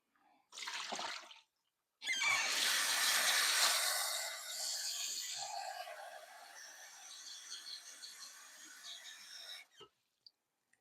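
Water gushes steadily for several seconds, a broad hissing rush like a tap running into a basin, preceded by a brief splash and ending abruptly.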